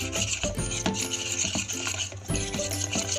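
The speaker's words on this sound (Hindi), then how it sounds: "अब हम इसे भी अच्छी तरह से मिक्स कर लेंगे।" Gram flour batter for bottle gourd pakoras is whisked by hand in a bowl, a steady rhythmic scraping and rasping that repeats quickly and close throughout, with no talk.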